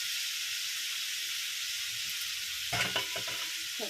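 Steady, loud sizzling hiss of food frying in a pan with turmeric and salt, broken near the end by a few clatters of stirring; no voices.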